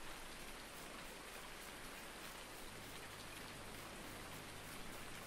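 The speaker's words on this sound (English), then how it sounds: "I just wish this bloody rain had stopped there." Steady rain falls on a farm, a dense, even hiss of drops on surfaces. It is quiet and continuous, with no voices.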